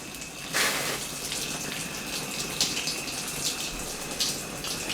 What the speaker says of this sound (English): I'm gonna hose this off too.